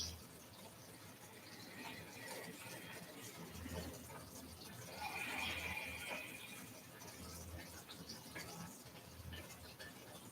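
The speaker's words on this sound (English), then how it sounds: "notice the gentle sounds of the bubbling" A pan of shakshuka simmers with faint, steady, low bubbling that holds evenly throughout, quiet and close, with no voices over it.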